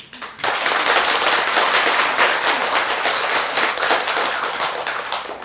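A temple audience at a Buddhist dharma assembly bursts into sustained applause, many hands clapping loudly and steadily for several seconds before tapering slightly.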